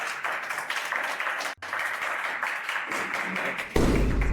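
A studio audience at a dating game show applauds a new contestant with dense, continuous clapping that briefly dips, then swells again with a louder, fuller burst near the end.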